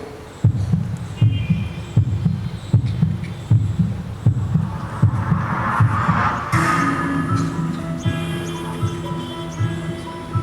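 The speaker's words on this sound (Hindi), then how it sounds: "मेरी धड़कनें बंद मत करो, मुझे धड़कना है।" A heartbeat sound effect in a stage drama about organ donation pulses in steady double thumps, loud and rhythmic, then continues under a sustained tonal hum in the second half.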